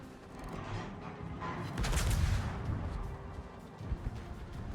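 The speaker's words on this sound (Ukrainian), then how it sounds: "таки відчувається смачний, смачний такий постріл" A single heavy warship cannon shot in World of Warships booms and rolls out with a deep rumble, followed by fainter distant thuds, no voices.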